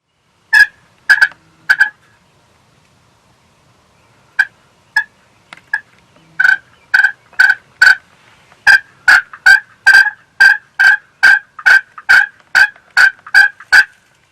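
A wild turkey gobbles in the open during a spring hunt: a few loud, scattered gobbles and calls at first, then a steady run of sharp repeated calls, each clear and fairly close, with no talk over them.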